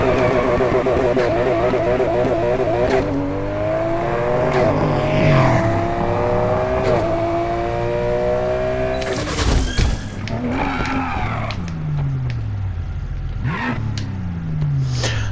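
A Nissan Fairlady 240ZG races in Need for Speed Heat, its engine revving up through rising gear pulls with sharp shifts and tire squeal partway through, loud and continuous.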